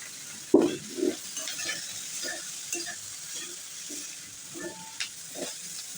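Chopped ridge gourd sizzles and stirs in a pan with chilli powder, with soft scraping and clinking bursts of a utensil moving ingredients around over a steady frying hiss.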